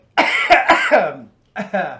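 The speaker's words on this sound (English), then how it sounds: "I'll take a cough there" A few sharp, wet coughs in a quick cluster, close by, followed by a short pause and two more throaty bursts.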